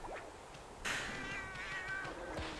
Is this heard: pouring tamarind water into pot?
no